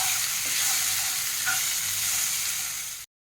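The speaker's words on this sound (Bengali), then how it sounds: "অল্প জল দিয়ে মশলাটাকে ভালো করে কষাতে হবে।" Powdered cumin, coriander, chili and turmeric masala fries in a pan with a splash of water for a pointed gourd and prawn curry, a steady close hiss of sizzling with soft stirring throughout, cutting off abruptly near the end.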